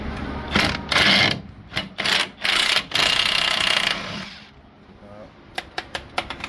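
Impact wrench working ball joint bolts on a 2007 Chevrolet Colorado front end, several loud rattling bursts of a second or so each, then a pause and a string of short sharp taps, with voices in the shop.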